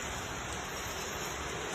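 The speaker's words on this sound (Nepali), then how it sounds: "पानी पर्यो" Rain falls in a steady, even hiss of drops with no pauses, soft and continuous.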